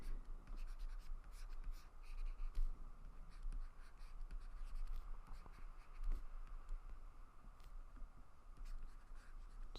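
A pencil draws a face on paper, a soft, continuous scratching of graphite with a fine stroke texture that stays quiet and close.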